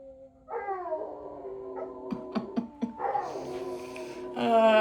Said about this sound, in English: My dogs howl at emergency sounds.